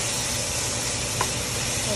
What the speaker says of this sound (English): Okay, a good stir.